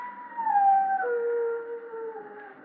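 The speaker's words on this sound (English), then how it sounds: "Means someone's going to die when a dog howls like that." A dog howls in a 1944 old-time radio mystery, a long, mournful wavering cry that slowly slides down in pitch, loud and up close, with no voices over it.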